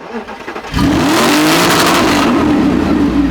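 An Audi R8's 420-horsepower V8 engine roars to life and revs loudly up close, a deep sustained growl with no talking.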